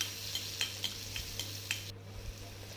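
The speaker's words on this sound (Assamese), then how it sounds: "বিলাহী আৰু পিঁয়াজখিনি ধুনীয়াকৈ ভাজি ল'লোঁ" Tomato and onion fry in oil in a wok while a utensil scrapes and stirs them, giving a soft sizzle with light taps and clinks close by.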